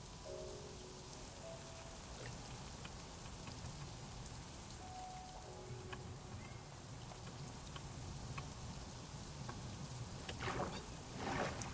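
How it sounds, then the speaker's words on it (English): Steady rain falls in a survival video game, a soft continuous hiss of drops with a few brief tonal game sounds and some sharper splashes toward the end. "And it's raining."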